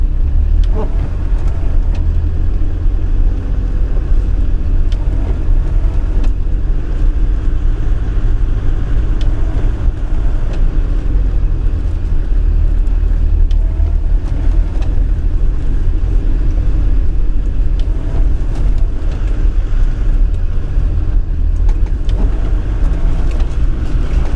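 A 4x4 engine drives a green lane in the Lake District in November, its low rumble steady and loud throughout, with occasional bumps and a voice speaking intermittently.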